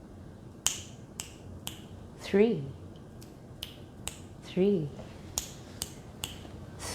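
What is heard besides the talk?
finger snapping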